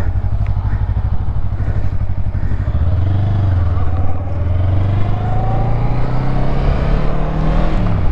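A motorcycle rides along with a steady, loud engine drone close by, its pitch rising and settling as it accelerates and shifts, with wind and road rumble mixed in.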